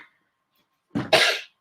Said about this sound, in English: It was a cough